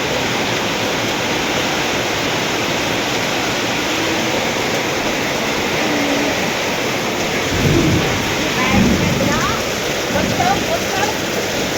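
Steady heavy rain pours down with a dull rumble of thunder partway through, loud and constant throughout.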